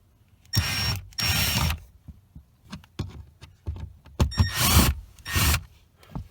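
A ratchet turning a T20 screw on the cabin filter panel of a Mercedes C300, with bursts of fast clicking alternating with shorter clicks and pauses, close and fairly loud.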